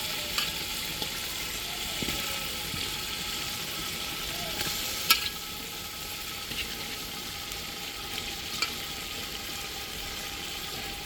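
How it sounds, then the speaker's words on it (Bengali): Beef added to a fried spice paste sizzles in a pan for a beef and ash gourd curry, a steady, moderately loud frying hiss with a few faint clicks and scrapes, no talking. "এখন আমি মাংস দিয়ে দেব"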